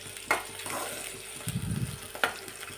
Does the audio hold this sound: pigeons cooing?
no